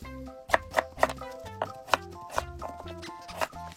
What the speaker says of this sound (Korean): 고등어 조림에서 빠질 수 없는 무와 홍고추 그리고 고등어도 적당한 크기로 썰어주세요